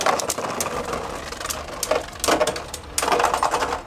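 Beyblade Burst Pro Series tops, including Kolossal Helios Zone 1B, ripped into a stadium and battling, with a steady whirring spin and repeated metallic clacks as they collide, close up and without talk.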